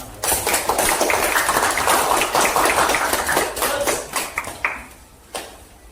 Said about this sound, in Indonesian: Ya kalau betul dikasih tepuk tangan.